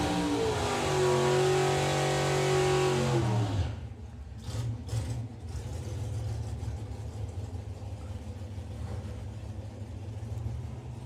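An Oldsmobile and a pickup launch side by side at a drag strip, loud engine roar rising in pitch for several seconds before cutting off abruptly, leaving quieter distant engine rumble and a few brief bursts.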